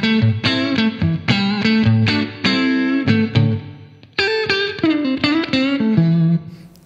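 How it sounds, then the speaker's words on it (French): Guitar played through a budget reverb pedal set to fully wet, only the reverb signal heard: a loud series of plucked and strummed notes and chords in uneven rhythm, each smeared into a lingering wash that fades out at the end. "donc on peut avoir, si on veut, que de la réverb"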